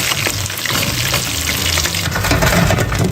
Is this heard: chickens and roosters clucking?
no